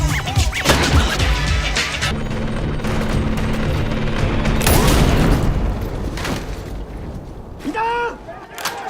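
Sniper rifle shots ring out as loud, heavy booms with long reverberant tails, several spaced across the stretch amid clanking and impacts, with a voice calling out over them.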